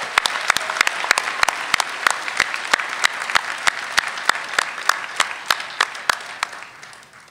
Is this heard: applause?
yes